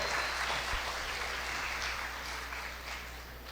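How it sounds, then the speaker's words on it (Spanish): An audience in a university lecture hall welcomes a state magistrate with sustained applause, a dense, even wash of clapping from many hands that fades slightly toward the end. "Esa ovación para recibirlo."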